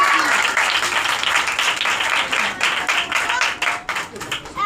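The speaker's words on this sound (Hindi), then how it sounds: "यीशु के जलाल के लिए जोरदार तालियां दी।" Church congregation clapping loudly in praise of Jesus, a dense sustained burst of many hands filling the room, with voices mixed in beneath the applause.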